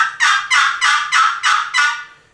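A Primos box call worked to imitate a turkey hen's yelp, a run of six evenly spaced, raspy, loud yelps close by, trailing off at the end with no talk.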